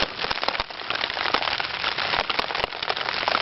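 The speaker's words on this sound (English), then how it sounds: "Just water running off the tarp." Rainwater runs and drips off a tarp at a still, windless overnight forest camp, a steady dense patter of drops with occasional louder taps, close and continuous, with no talk.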